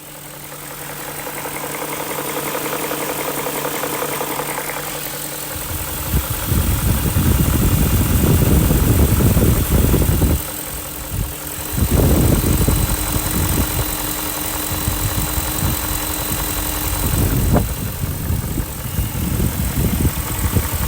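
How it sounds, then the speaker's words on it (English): A car engine idling close by after sitting unused for months, a steady low rumble that revs up and settles back several times, with faint knocking vibration. "get in close with the microphone so that you can hear this engine at idle"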